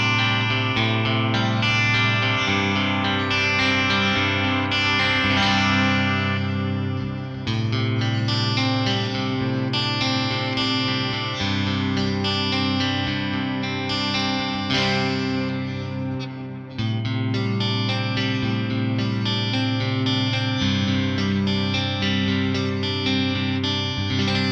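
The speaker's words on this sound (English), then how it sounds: "I'll just let you hear the split coils in all three positions like that, and then I'll kick on some distortion" A Mayones Duvell Elite electric guitar with split-coil pickups plays chords and riffs, first clean through the pickup positions and then with distortion engaged. The notes ring loud and sustained with effects.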